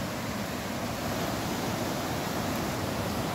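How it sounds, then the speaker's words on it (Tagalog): Water crashing down at Pangas Falls makes a steady, unbroken rushing roar, moderately faint and even throughout, with no voices. "Narinig nyo na ba ang ingay ng tubig mga fishing? Ang bagsak ng tubig sa poles."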